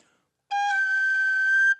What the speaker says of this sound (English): And the Irish whistle, that works in a similar way.